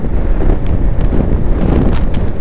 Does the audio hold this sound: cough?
no